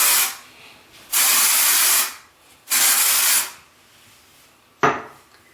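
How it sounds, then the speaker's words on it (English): KMS Hair Play Makeover Spray dry shampoo hissing from an aerosol can in two long, steady bursts of about a second each, then a brief sharp spritz, close and loud with no talking. "I like KMS Hair Play Makeover Spray."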